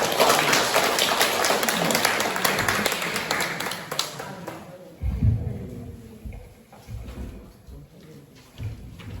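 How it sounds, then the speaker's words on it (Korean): A Catholic church audience at an autumn retreat at Dogo Church claps loudly and densely, then the applause thins and dies away midway, leaving scattered soft knocks and shuffling. "다시 한번 박수 주십시오"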